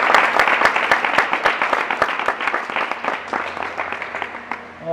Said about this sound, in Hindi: तो एक जोरदार ताली।